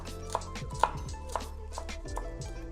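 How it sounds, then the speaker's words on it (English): Coriander and mint leaves are chopped with a knife on a board, a series of crisp, irregular taps close by with a few sharper strikes. "chopping some coriander and some mint leaf"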